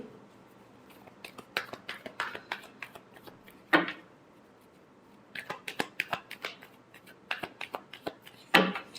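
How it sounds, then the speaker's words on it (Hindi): Tarot cards shuffled by hand in a quiet room, producing bursts of crisp riffling and flicking clicks in irregular clusters with brief pauses between them, close and fairly soft. "last shuffle"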